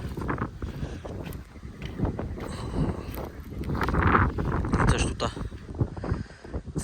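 Steady wind buffeting the microphone outdoors in an open farm field, a broad low rumble that swells and gusts, loudest toward the end.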